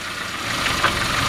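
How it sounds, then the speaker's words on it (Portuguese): A Ford Ka 2000 with a Zetec engine runs steadily at idle nearby, a continuous mid-pitched hum with slight knocking texture and broadband noise, heard alone for a short stretch. "A gente voltando agora com o motor ligado."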